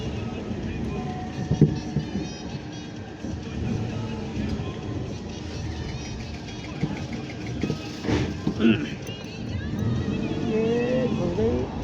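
A car is slowly maneuvered and parked in a narrow 12-foot lane, its low engine rumble running beneath several people talking nearby, with a few louder bumps and shifts partway through.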